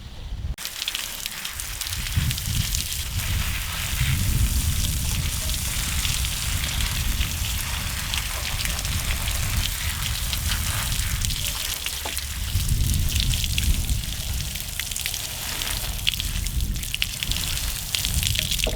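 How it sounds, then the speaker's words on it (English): Constant broadband whooshing of an electric fan circulating air around garlic hung to dry on a small farm fills the whole stretch, a steady airy roar with slight swells and no talk. "We have our fan right here that is circulating the air around them"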